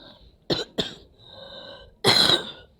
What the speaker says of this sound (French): Excusez-moi pour la toux.